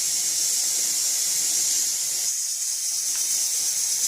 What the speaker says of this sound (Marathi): इथं पाण्याला उकळी आलेली आहे